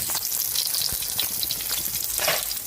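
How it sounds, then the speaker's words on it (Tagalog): Daing na bangus, dried milkfish, frying in hot oil with a loud, continuous crackling sizzle up close, no talk. "Magpiprito na tayo ng daing na bangus."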